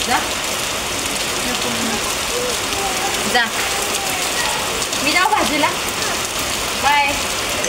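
Heavy rain pours steadily outside a residential housing society, a dense continuous hiss with voices and brief sounds breaking through now and then.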